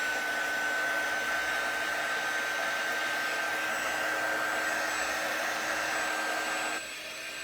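A hair dryer blows steadily at close range to dry paint on an art journal page, a constant loud whirring hiss that cuts to a lower setting near the end.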